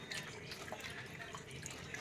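Tamarind water is strained through a mesh filter into a bowl, a faint continuous trickling and dripping of liquid heard up close.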